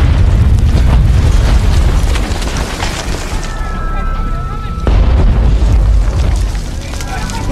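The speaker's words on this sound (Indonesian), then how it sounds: "Film diawali dengan adegan penyerangan bom secara bertubi-tubi oleh pihak Vietnam ke markas tentara Australia dan Selandia Baru." Heavy booming bomb blasts in the war film Danger Close rumble in close succession under a narrator's voice, with a loud new impact near the middle.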